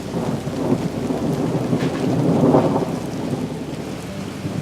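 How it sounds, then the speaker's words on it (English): A thunderstorm in the Villas, Southern New Jersey, with heavy, steady rain and low rolling thunder that swells near the middle. The whole storm stays loud and close, with no voices. "it was a pretty decent storm"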